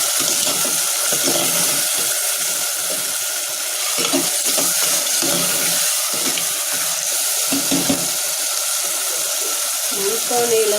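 Onions and tomatoes sizzle in a clay pot while a fish curry is cooked, a steady hissing crackle that runs throughout, with a voice talking over it.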